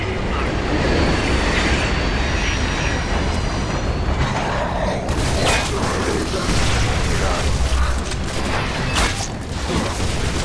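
A train rumbles loudly through a tunnel in Gears of War 3, a dense, steady mechanical roar with rattling and brief squealing textures that stays continuous for the whole stretch.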